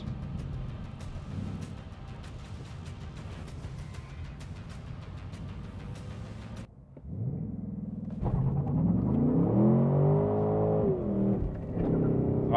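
A car doing a full burnout at a drag race: a steady engine drone cuts out briefly, then loud revving rises, holds and falls back.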